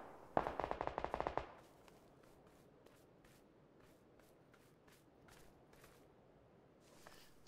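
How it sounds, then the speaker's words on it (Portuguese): DMR rifle fire in PUBG on Xbox One X: a rapid close volley of sharp cracks at the start, then fainter distant single shots spaced out over the following seconds. "Tem alguém atirando de DMR pra cá?"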